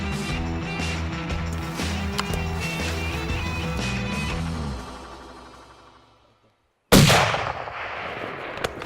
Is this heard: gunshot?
yes